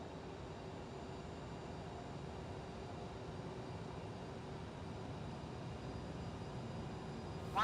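A Cessna engine in a flight simulator game drones steadily at low volume, a constant hum with no talk over it.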